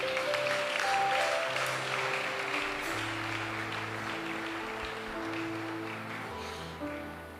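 A church congregation applauds at the close of a French-language prayer service. The clapping is steady and moderately loud throughout, with a sustained organ or keyboard chord playing underneath.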